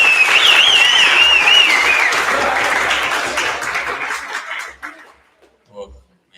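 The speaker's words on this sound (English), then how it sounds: "Big round of applause for us." An audience at a public-sector service design talk applauds loudly, a steady wash of clapping with a few chuckles that thins out and fades to scattered claps over about five seconds.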